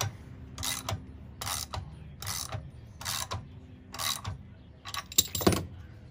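Ratcheting bursts from a 15/16 socket wrench tightening a 16mm crankshaft adapter on a Coleman engine, several short clicking runs in a steady rhythm, close by over a low background hum, with a final quicker flurry near the end.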